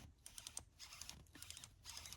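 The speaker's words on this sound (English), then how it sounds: "the clicking. That's the spring inside for the adjustment knob." Quiet, rapid mechanical clicking in a few short bursts from the spring inside an air impact wrench's adjustment knob, close up with no talking.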